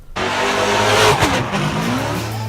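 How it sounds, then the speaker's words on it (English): A drift car at a Long Beach, California event slides past with a loud, sustained tire squeal over a roaring, revving engine, the squeal's pitch bending as the car sweeps through the corner. "Drifting is essentially the art of controlling a car that's out of control."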